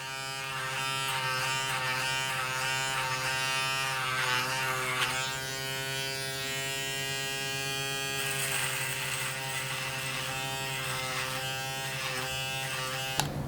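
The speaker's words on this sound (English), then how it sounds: "let's see how these can trim in the sideburns area" A Panasonic ES-RM3B Arc 3 electric shaver trims sideburns with a loud, steady close-up buzz, its pitch shifting slightly as the head moves over the hair.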